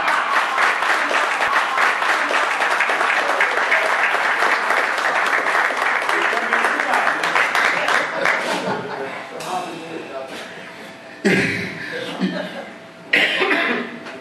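Sustained audience applause, loud and dense, gradually thins out, with a few coughs and scattered noises as it dies down.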